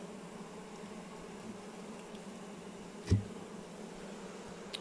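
A faint, steady buzz of honey bees at a hive hums in the background, broken once by a sharp knock; no voices.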